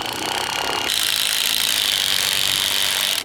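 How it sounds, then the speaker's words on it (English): A cordless impact driver hammers a massive 150mm screw into a timber beam of an off-grid cabin frame, a loud, steady rattling drive lasting a few seconds before it stops. "Good luck driving these without an impact driver."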